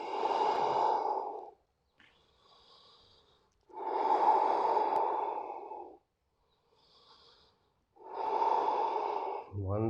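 Slow, loud breaths during a humble warrior yoga pose, three long breathy exhales and inhales in a steady rhythm, with faint softer breaths between them.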